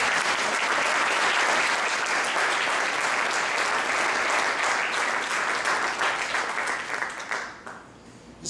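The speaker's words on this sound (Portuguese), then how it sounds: "Vamos dar uma salva de palmas para o Senhor." Sustained applause from a church congregation honoring God during a sermon, dense and steady, continuous for most of the stretch before fading out near the end with no talk over it.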